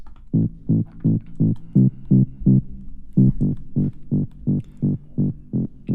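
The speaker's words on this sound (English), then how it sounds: "Next we've got the bass, sounds like this." A deep tech house synth bass made in Ableton plays a steady run of evenly spaced, punchy notes, pausing briefly midway before resuming the same rhythmic pattern, with no voices.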